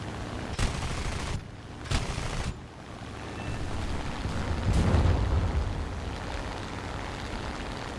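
Artillery barrage in the War Thunder air battle game: several sharp blasts crack out one after another, followed by a deeper, rolling explosion swelling in the middle, all over a steady rumble of engine and battlefield noise.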